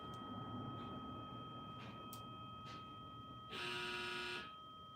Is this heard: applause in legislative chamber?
no